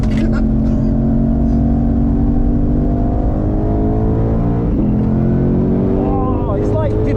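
A Shelby GT500 at full throttle on the Nürburgring Nordschleife gives a loud, continuous engine roar with a steadily climbing pitch, heard close from inside the car, while people talk excitedly over it.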